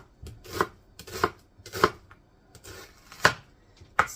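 Knife chopping through half an onion on a board: five crisp, evenly spaced cuts, close and fairly loud, with quiet gaps between them.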